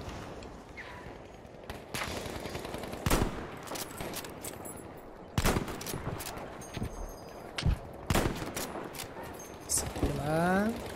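Gunfire in the video game Battlefield V: scattered single shots and quick bursts ring out at irregular intervals, loud and close, while someone talks between them.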